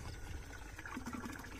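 Water rushes steadily into an irrigation tank on a hillside drip irrigation setup, a continuous, fairly faint flowing wash with no talk.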